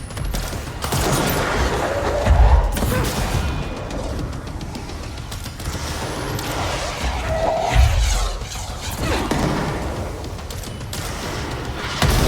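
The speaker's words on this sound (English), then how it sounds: "missile right to the face" A missile slams into an enemy during a firefight in Control, with sustained automatic fire and two heavy booming impacts standing out near the listener amid the constant loud clatter.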